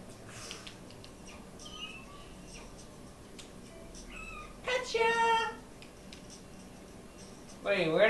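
A cat meows a couple of times in the video game No More Heroes, with short chirpy calls over a quiet game background, the clearest meow near the middle and another near the end.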